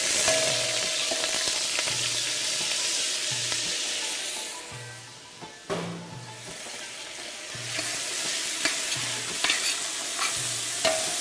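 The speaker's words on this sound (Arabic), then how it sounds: "بعد ما حمي الزيت هلا راح نحط الرز على الزيتات في" Rice is stirred into hot oil in a pot for Jordanian mansaf, with a spoon scraping and stirring in repeated strokes over a bright, continuous sizzle that dips briefly and then returns.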